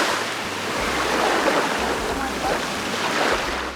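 Sea waves wash onto the beach at Batu Ferringhi, Penang, a broad steady rush of surf with gusts of wind buffeting the microphone.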